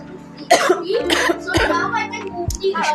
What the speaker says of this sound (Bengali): কথাও বলতে পারছি না কাশি হচ্ছে